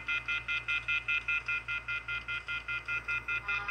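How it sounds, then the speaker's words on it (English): A loud electronic beep repeats in a fast, even pulse, about four times a second, alone over a low hum. "But we still get that beep!"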